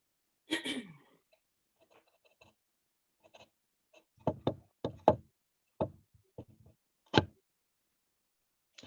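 Sharp knocks on a door come in scattered clusters, a few quick raps followed by more spaced single blows, heard close and isolated against near silence, with a brief throaty sound at the start.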